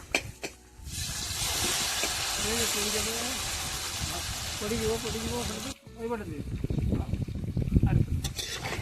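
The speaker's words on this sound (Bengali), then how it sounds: "জিরেটা গরম হয়ে গেছে, এবার মাংসটা দিয়ে দিচ্ছি।" Meat drops into hot oil with cumin in a pot over an open village fire, giving a loud, broad hiss that lasts several seconds, then eases into quieter spitting and crackling while a person talks over it.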